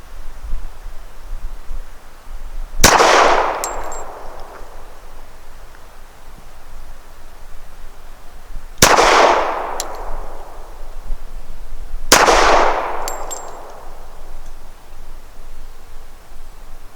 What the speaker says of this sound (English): And for my shots, I'll be using the 230 grain Fiocchi ammunition.